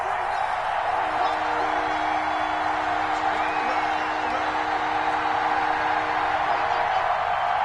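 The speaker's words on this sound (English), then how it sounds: "the crowd getting into it as we come up on a big 3rd down" Crowd cheering in a Madden NFL game, Colts versus Bills, building ahead of a big third down: a steady, fairly loud stadium roar that holds at an even level throughout, with faint whoops and long held tones inside it.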